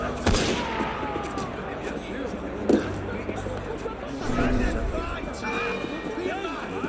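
Gunfire in the video game Assassin's Creed Unity: a loud, sharp shot right at the start and a second crack a couple of seconds later, set against a continuous bed of crowd murmur and talking voices.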